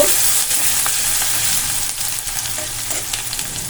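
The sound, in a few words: stirring peas and paneer frying in a pan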